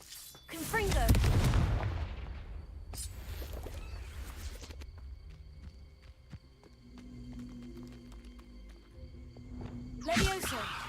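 A Confringo fire spell cast in Hogwarts Legacy: a loud booming burst with a crackling blast, then a quieter tonal fizz and a second burst near the end, alone with no talk.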